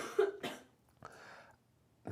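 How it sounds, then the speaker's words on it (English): Two or three short, dry coughs close by, separated by brief pauses in an otherwise quiet room. "got a cough all of a sudden"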